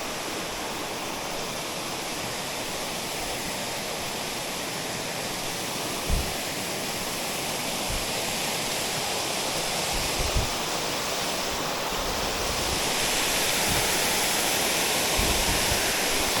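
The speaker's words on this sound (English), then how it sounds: "The falls, this is actually really, really low water." A waterfall at low water flows as a steady, dense rushing roar, continuous and fairly close, with a few faint low thumps and no voices.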